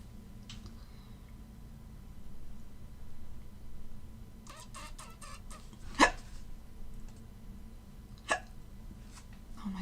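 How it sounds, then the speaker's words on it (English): A person hiccups several times at irregular intervals, each a short, sharp gulp, with a brief flurry of small clicks in between against a quiet background hum. "Oh, my hiccups."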